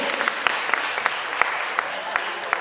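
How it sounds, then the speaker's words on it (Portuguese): A church congregation claps during a Wednesday worship service, a continuous wash of applause punctuated by several sharper, louder individual claps at irregular intervals. "Vamos aplaudir o Senhor."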